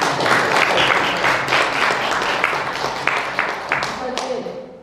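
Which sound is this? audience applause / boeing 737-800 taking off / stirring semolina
audience applause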